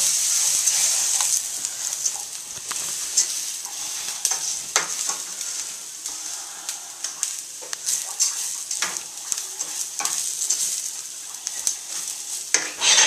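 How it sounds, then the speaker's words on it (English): Rice browning in a hot pan for Spanish rice, sizzling with a steady high hiss and occasional scrape of stirring against the pan, close and continuous with no talking. "I don't know if you can tell that the rice is getting brown, but it is."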